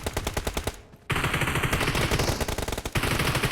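Dense automatic gunfire from a shotgun in a shooting video game, loud and close, with rapid bursts of shots, a brief pause, then a sustained volley.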